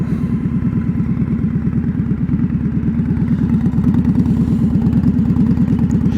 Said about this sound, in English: That is a zippy bike.